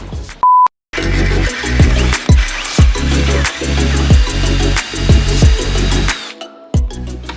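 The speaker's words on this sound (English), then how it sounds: "got the dowel drill there" A dowel drill bores a series of holes into a wooden shoe rack leg and side piece, with repeated loud whirring bursts starting and stopping in quick succession after a short beep.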